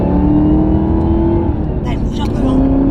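A Chevrolet Camaro ZL1 1LE with 659 hp drives along, its engine holding a loud, steady drone heard from inside the car while people talk over it.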